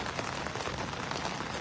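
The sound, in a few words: heavy rain while fishing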